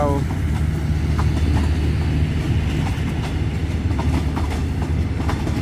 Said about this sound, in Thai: ส่วนข้างหลังนั้นเป็นขบวนรถเปล่านะครับ GEA สี่ห้าสองห้า ดูเปล่า